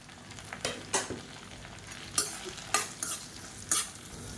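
A medium chopped onion fries in a pan while a spoon stirs it. Six or seven sharp scraping clacks arrive at irregular intervals over a quiet background sizzle, close up and without voices.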